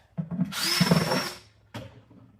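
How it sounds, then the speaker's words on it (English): A power drill whirs for about a second in a close, loud burst, drilling holes in a plastic box, then a second short burst starts before fading out. "then we are going to drill some holes just to let the oxygen out"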